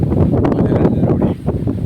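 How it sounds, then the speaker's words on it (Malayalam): Strong mountain wind at a hilltop fort roars constantly against the microphone, a close, low, rumbling buffeting with no voices. "ഇത്രയും നല്ല കാറ്റ്"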